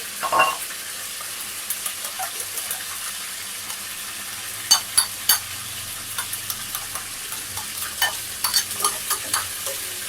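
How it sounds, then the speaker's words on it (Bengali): Yogurt is whisked in a bowl while preparing a chicken roast, a utensil clicking and tapping against the bowl in an irregular run of light, close strikes that grow busier toward the end. "দইটা ফেটে নিচ্ছি"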